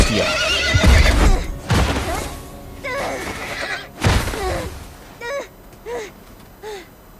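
Horse neighing in the video game The Last of Us, loud whinnies with thuds and hoof sounds early on, then several shorter, fainter whinnies trailing off at the end.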